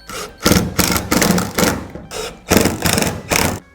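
Power driver bursts drive number 3 Phillips screws into a Toyota Tundra bed step, loud close whirring pulses in a steady series of about seven short runs separated by brief pauses.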